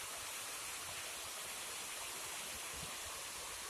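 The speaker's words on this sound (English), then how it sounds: "All little waterfalls are pretty." Small waterfall on a creek swollen after rain, a steady dense rushing and splashing roar of water close by, constant throughout with no voices.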